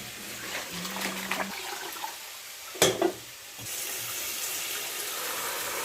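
Tap water runs steadily in a home kitchen while okra is rinsed, with a brief clatter of a vessel midway before the flow carries on evenly.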